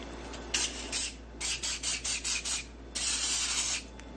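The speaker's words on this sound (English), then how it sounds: "I just spray this down like this, and I feel it's best to just get it nice and wet." Repeated bursts of a hand spray bottle misting water onto old wallpaper to soak it, a short series of quick hissing squirts followed by longer sustained sprays, close and fairly quiet with no talking.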